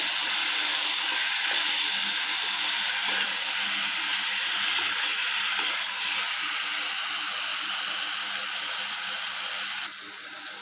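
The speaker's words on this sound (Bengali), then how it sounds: "এটাকে আমি মাংসের সাথে ভালোভাবে নেড়ে চেড়ে ভেজে নেব" Steady, loud sizzling hiss of chicken frying in a pan with ginger garlic paste, continuous throughout with faint scraping, dropping slightly at the very end.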